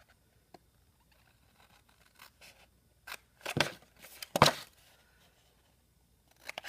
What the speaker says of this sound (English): cut my little tab, cut the corner out